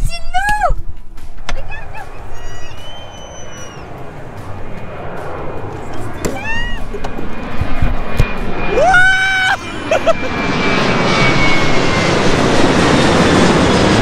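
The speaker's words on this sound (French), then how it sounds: "il y a un avion qui décolle," Airplane taking off near an airport, its engine roar swelling into loud broad rushing noise toward the end, with earlier bird calls and people talking nearby.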